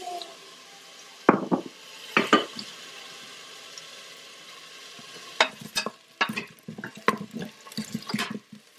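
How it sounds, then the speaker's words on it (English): Onion sautéing in olive oil inside an Instant Pot, heard as soft sizzling with bursts of stirring and scraping that come in irregular clusters, close and fairly loud, with quieter gaps between. "so we're gonna saute the onion first"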